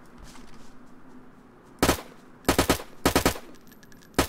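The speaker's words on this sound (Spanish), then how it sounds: "Disparos. ¿Tú disparaste?" Gunfire in the DayZ survival game, a single sharp shot followed by three quick bursts of rapid automatic fire, loud and close against a quiet outdoor background, with no talking.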